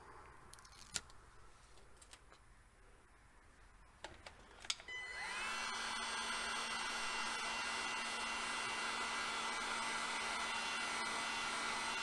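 A hot air blower whirs on steadily and loudly to heat an adhesive motorcycle camera mount, after a few sharp clicks and handling taps in a quiet room.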